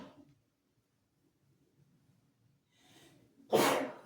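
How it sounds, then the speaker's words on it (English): A lone, close sneeze: quiet shuffling and a building breath, then one sudden loud burst that trails off. "I gotta sneeze."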